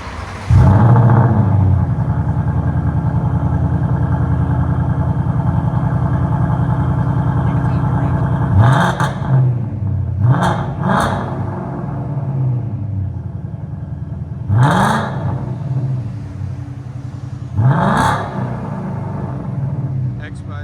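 The V8 engine of a 2024 Ford Mustang GT 5.0L rumbles steadily from inside the car, with several sharp throttle blips rising and falling over the deep idle.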